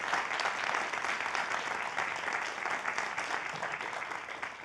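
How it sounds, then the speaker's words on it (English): An audience at a book event with author André Aciman applauds after the conversation ends, an even, sustained clapping that sounds somewhat distant and soft, with no speech on top. "we can applaud"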